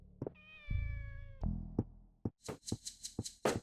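A cat meows in the video game Shenmue with one long, clear, tonal mew and then a string of shorter mews and soft knocks, close and alone with no talk.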